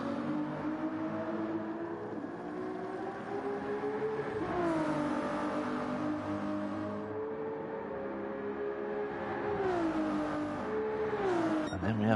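Race car engines in a Gran Turismo GT3 endurance race at Deep Forest, with a Ferrari, Supras and a Lamborghini on track, drone loudly and continuously, their pitch climbing and dropping through gear shifts.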